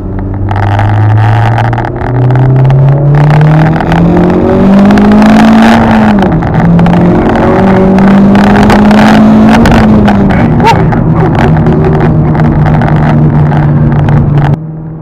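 A Honda Civic Type R driven hard through turns, its engine loud and close with rising and falling revs and gear changes throughout, no voices over it.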